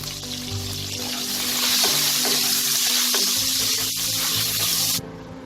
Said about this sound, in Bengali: যতক্ষণ আমি আলুটাকে ভাজছি